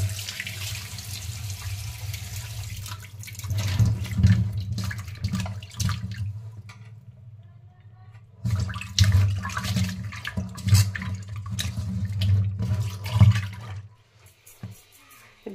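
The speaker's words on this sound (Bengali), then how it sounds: "এই যে পমফ্রেট মাছগুলো আমরা প্রথমে ধুয়ে নেব।" Pomfret fish being washed under a running kitchen tap, the steady splashing water broken by handling, with a pause partway through before the flow resumes.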